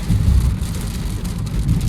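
Rain drumming on a moving car during a road trip, a loud, continuous wash of drops mixed with low road and engine rumble, close and steady throughout, with no one speaking.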